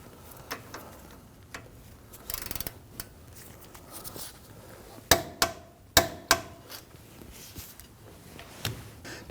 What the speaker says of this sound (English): Let's torque down our caliper bracket to knuckle bolts to